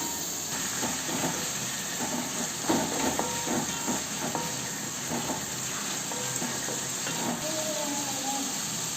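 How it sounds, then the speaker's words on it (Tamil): Onions sautéing in a pan for homemade chicken gravy, a steady close sizzle and hiss with occasional stirring clicks and scrapes throughout. "இப்போ வெங்காயம் வதங்கட்டும்."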